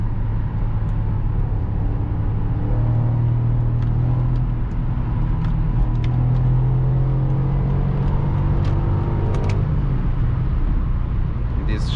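A V8 car engine drones at a steady, continuous low rumble from inside the moving car, holding an even pitch with little sign of sharp revving.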